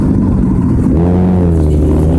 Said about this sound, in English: So my bus is coming, so I have to go.